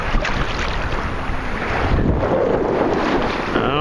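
Wind buffets the microphone on a boat out on the bay while waves wash and slap steadily against the hull, a loud continuous rush with no talking.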